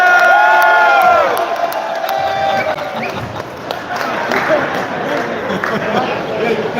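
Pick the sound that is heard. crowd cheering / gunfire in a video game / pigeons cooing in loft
crowd cheering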